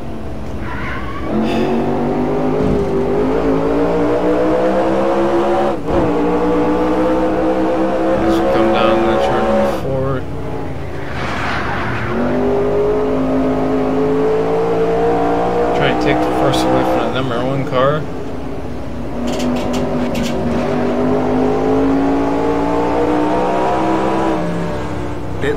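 Engines of 1969 USAC stock cars in the racing game NR2003 drone and rev continuously, pitch rising and falling through shifts as the cars race back to the line, with a voice talking over them.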